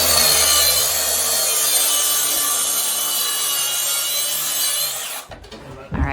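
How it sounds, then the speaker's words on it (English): A saw rasps steadily through wood while trimming a quarter inch off the back of a kitchen cabinet, loud close back-and-forth strokes that run for about five seconds before stopping with a few knocks. "So we actually decided to just cut a 1/4 inch off the back."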